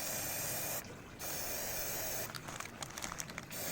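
Bursts of aerosol spray paint hiss onto a game controller being painted red outdoors, one short spray followed by a longer run of broken, sputtering sprays, close and fairly loud against a steady background hiss.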